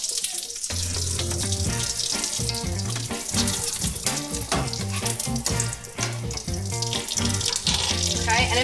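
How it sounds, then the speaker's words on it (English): A mozzarella sandwich frying in a pan, a steady crackling sizzle that continues throughout, with music playing underneath. "I'm going to let it fry on this side"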